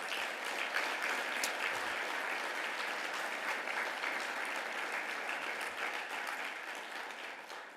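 Sustained, dense applause from a banquet crowd at a Hall of Fame ceremony honoring Jack's family at their table, steady and full for several seconds before tapering slightly at the end.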